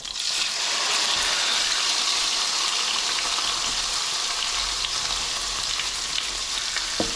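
Onions and pork chops fry together in a big pan with a loud, steady, close sizzle and crackle that fills the whole stretch. There is a faint clink near the end, and no speech.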